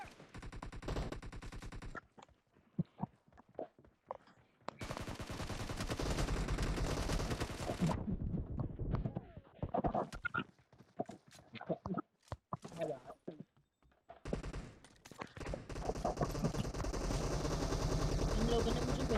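Rapid machine-gun fire in a PUBG Mobile team deathmatch, loud sustained bursts alternating with scattered single shots and pauses, with voices talking over parts of the fight.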